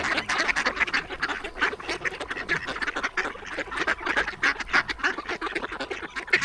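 A flock of ducks quacking busily and continuously among nutrias, many overlapping calls close by with no pauses.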